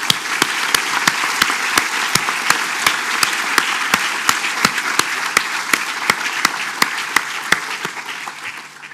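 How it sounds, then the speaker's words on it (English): Audience at a shipping forum applauds graduates who passed their exams, dense sustained clapping from a crowd with a few sharp, louder individual claps standing out in a regular rhythm throughout. "I would like a round of applause from all of you for all those this year that have passed their exams"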